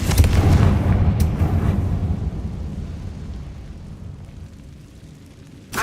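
A Confringo spell explosion in Hogwarts Legacy booms loudly at the start and rolls off into a long, fading rumble, ending with a brief new burst.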